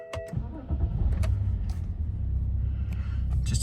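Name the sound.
BMW 530d diesel engine starting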